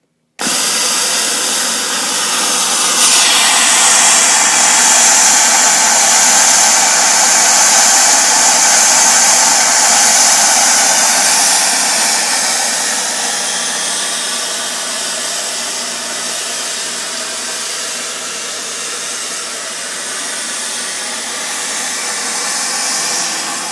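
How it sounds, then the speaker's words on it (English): A dispenser unit with its conveyor and line vacuum switched on runs as a loud, steady whir and hiss throughout, holding close and unbroken with a slight shift in pitch partway through. "we turn on the main power, we turn on the conveyor, we turn on the line vac"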